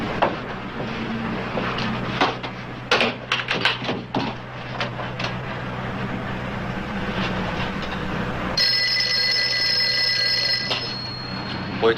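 A telephone rings in a room, a continuous bright ring that starts partway through and carries on to the end, after earlier knocks and shuffling.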